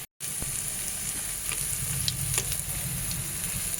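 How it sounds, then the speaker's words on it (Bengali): Chana dal fritters deep-fry in oil with a continuous close bubbling sizzle and a few faint clicks of a spoon, steady throughout after a brief silent start, with no talking. "ভালো করে মজমজে করে বড়াগুলো ভেজে নিই"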